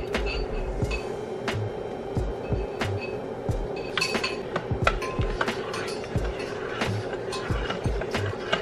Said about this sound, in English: stir in our heavy whipping cream mixture